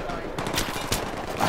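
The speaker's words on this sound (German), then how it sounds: "Die schießen auf mich!" Gunfire in the video game Battlefield 3, with a loud, dense burst of rapid shots filling the whole brief moment, and a voice talking under it.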